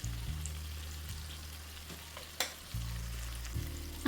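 Spices stirred into matki bhaji frying in a pan: a soft steady sizzle with scraping spoon strokes and a few sharp clinks against the pan, close and alone.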